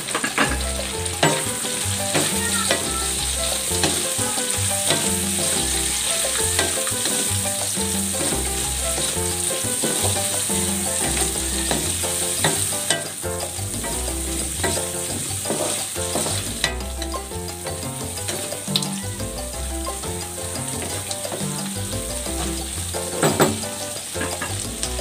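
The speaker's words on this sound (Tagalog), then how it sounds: "Igisa na natin itong Baguio beans. Sabay na rin natin ang carrots." Baguio beans and carrots sautéing in a pan, a continuous loud sizzle with frequent clinks and scrapes of a spatula stirring, close and steady with no talk.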